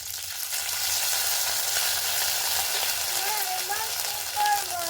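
Ginger and cumin paste fries in hot oil for a fish and bean-potato curry, a loud dense sizzle that holds steady throughout, with a voice faintly audible underneath.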